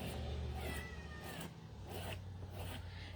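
A pet cat named Lucy cries and meows repeatedly at close range, several drawn-out, wavering calls spread across a few seconds with a steady low hum underneath.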